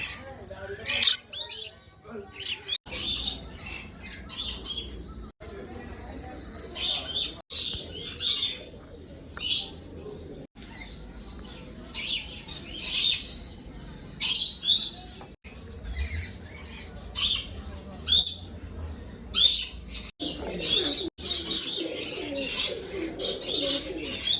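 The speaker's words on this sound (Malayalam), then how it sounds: "നല്ല കളർഫുള്ളായിട്ടുള്ള തത്തകളും അങ്ങനെ പല ജാതി കിളികളും മൃഗങ്ങളും എല്ലാം ഇവിടെയുണ്ട്" Parrots and other assorted birds call around the listener at an animal park: repeated sharp chirps and squawks, soft cooing in between, close and lively, with occasional low background murmur.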